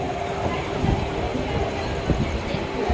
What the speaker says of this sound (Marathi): बघा बाहेर स्टेशन आहे, तर लोकल ट्रेन आहे